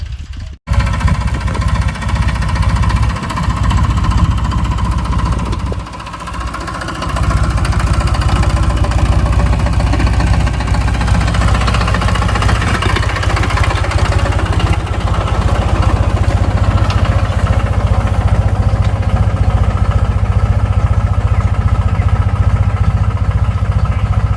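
A tractor engine runs nearby while ploughing a groundnut field, a loud steady rumbling drone that continues throughout with only a brief dip early on.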